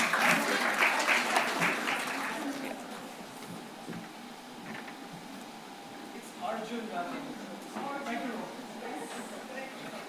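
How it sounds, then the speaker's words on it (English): A room full of people applauds to welcome two poets, Arjun Rajendran and Rohan Chhetri, at a literary festival session. Dense clapping starts loud, eases to a lighter patter, swells briefly again, and has some murmured voices mixed in. "May we, with a round of applause, welcome Arjun Rajendran and Rohan Chhetri"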